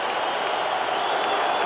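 Baseball crowd at a 1980 World Series game in Philadelphia, a dense, steady roar of cheering and applause from a packed stadium, sustained and loud throughout.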